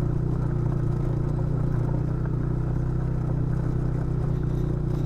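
Motorcycle ridden over sharp, high stones along a mud embankment in heat, its steady mid-pitched engine drone running continuously with faint clatter underneath.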